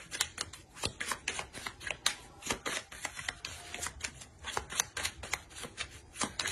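Oracle cards being shuffled by hand: a dense, continuous run of quick papery riffles and slaps, close and fairly loud, with no talking over it.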